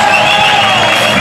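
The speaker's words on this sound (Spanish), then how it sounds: "Fuerte aplauso" After a chirigota song, a large audience cheers and applauds loudly and continuously, a close, dense wash of crowd noise.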